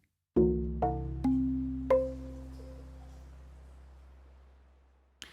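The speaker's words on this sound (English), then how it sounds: "on layer A we've got a sound source called cave stalactites" A few bell-like tones from an Omnisphere synth patch built on a cave stalactites sound source, struck one after another, bright and resonant like tapped stalactites, leaving a long, slowly fading shimmering tail.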